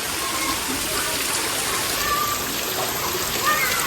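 Steady rain falls during a first monsoon shower, a dense, even hiss of drops close by with no break; a faint voice passes briefly underneath.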